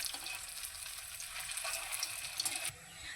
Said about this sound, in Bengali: এইভাবেই লো ফ্লেমে আমি কিছুক্ষণ সময় নিয়ে ভেজে নেব মুইঠাগুলো।